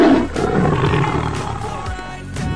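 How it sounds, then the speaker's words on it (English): A tiger gives a deep, rumbling roar that swells and holds for a couple of seconds, loud and close, with no speech over it. "tiger family"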